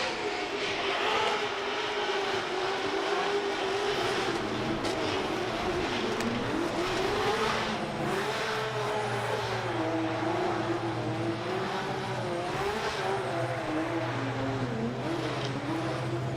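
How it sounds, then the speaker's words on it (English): Formula Drift cars at Long Beach perform celebratory burnouts, a sustained loud engine roar with wavering revs and a steady low drone throughout, tyre noise blending in. "Celebratory burnouts, are they?"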